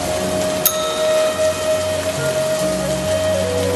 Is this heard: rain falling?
yes